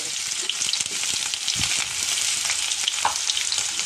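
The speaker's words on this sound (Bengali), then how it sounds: "আর পুচকাটা ভাজবো দেওয়ার জন্য।" Puchka puffs fry in hot oil for chotpoti, a loud, continuous crackling sizzle with a few soft knocks from stirring mixed in.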